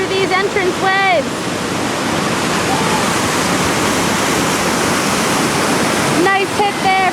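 Whitewater rapids roar at the entrance waves of the Lower Gauley River as rafts come through, a dense, constant rushing of water from start to finish, with people's voices briefly audible at the beginning and end.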